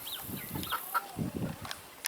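Black Copper Marans chickens cluck and chirp in short, close bursts over a faint background hiss, with a few higher peeps scattered through the calls.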